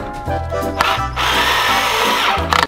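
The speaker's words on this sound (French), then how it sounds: "On va visser ça de chaque côté de l'arbre et comme ça fera notre renfort." A power drill drives screws through pallet planks into a tree outdoors, whining in close, loud bursts with a rising motor pitch and brief stops between pulls of the trigger.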